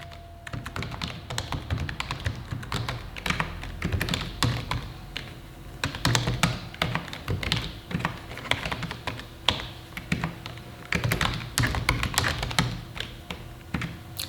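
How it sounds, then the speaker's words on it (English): Typing on a computer keyboard at a real estate office produces dense, rapid, close key taps in bursts with brief pauses, with no talking. "First thing we'll do is type in the address and the legal description of the property."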